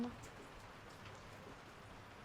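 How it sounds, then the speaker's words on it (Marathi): Faint, steady rain patters softly and continuously in the background. "पाऊस पण चालूच आहे आज"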